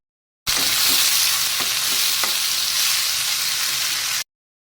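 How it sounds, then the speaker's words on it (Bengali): Steady, loud sizzling of onion, tomato and green chilli frying in hot oil, with a few faint scrapes of stirring underneath. "পেঁয়াজ টমেটো কাঁচা লঙ্কা একটু কেটে রেখেছি তো সেটা ভাজতে বসিয়ে দেবো"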